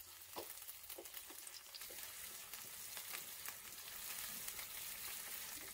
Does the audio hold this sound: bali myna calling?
no